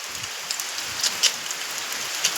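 Steady rain falls in a village, a soft continuous hiss of drops with a few sharper patters and splashes standing out now and then, heard alone with no voices.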